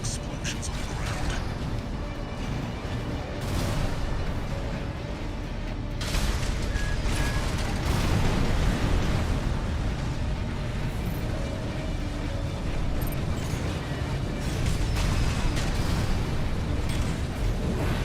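Explosions rumble and burst on the ground in the mech combat game Armored Core VI, a dense, continuous roar of booms and mechanical clatter over about eighteen seconds, loud and sustained.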